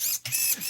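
Steering servo on an Axial Mini Capra 1/18 UTB18 RC crawler whirring in two short, high mechanical buzzes separated by a brief pause, close to the microphone and fairly loud.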